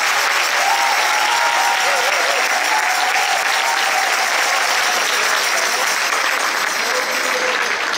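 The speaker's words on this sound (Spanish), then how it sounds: "Un aplauso más fuerte para el Señor" A church audience at a Chilean Catholic charismatic renewal anniversary gathering applauds loudly and continuously, with a voice faintly audible beneath the clapping.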